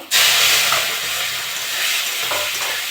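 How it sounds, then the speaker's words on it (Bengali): Prawns dropped into a hot pan with panch phoron, a sudden loud burst of hissing sizzle that settles into a steady, bright crackle throughout. "আমি এবার চিংড়ি মাছগুলো দিয়ে দেবো"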